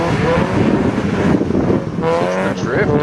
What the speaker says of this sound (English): It's the drifter, the Miata drifter.